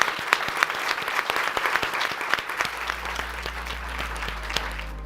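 A convention audience claps in a dense, lively round of applause with sharp individual claps, then the clapping thins out and fades while a low hum rises underneath.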